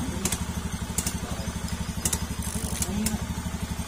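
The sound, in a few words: Honda ADV150 scooter fuel pump running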